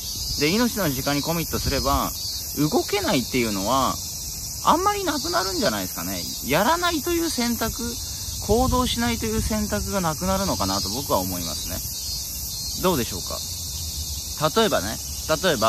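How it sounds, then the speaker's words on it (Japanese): Cicadas drone in a constant high, shrill chorus that runs the whole way through, steady beneath someone speaking continuously in the foreground. "まあセミが鳴いてますけど"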